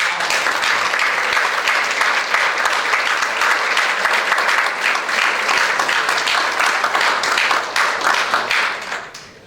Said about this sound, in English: I now invite the audience to join me in a round of applause.